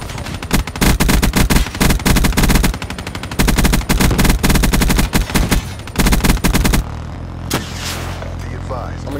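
Machine gun fire in the video game Black Ops 3, loud sustained bursts of rapid automatic shots broken by short pauses, then quieter game sounds.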